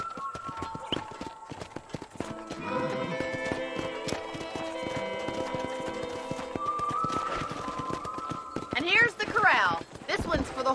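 Rhythmic clip-clop of horse hooves in the video game Red Dead Redemption beneath layered game music and occasional talk, with a brief whinny near the end.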